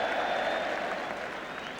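A football crowd at a Spurs, Middlesbrough, Luton Town, Hull City, Aston Villa or Leeds United match claps in a steady, broad wash of distant applause that holds for the whole moment and fades slightly toward the end.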